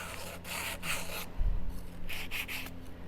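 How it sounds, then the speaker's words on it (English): A piece from a Moonball basketball craft kit is sanded by hand in several short, quiet rubbing strokes separated by brief pauses, with one soft knock in the middle. "I want to sand this."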